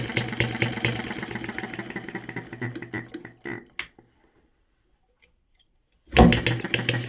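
A small model hit-and-miss engine runs with a rapid, uneven chuffing beat up close, slows and cuts out into near silence with a few stray clicks, then bursts briefly back to life.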